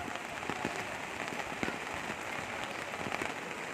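Heavy rain pours steadily onto surfaces during a flood, a dense constant hiss with scattered louder drop impacts throughout, no voices.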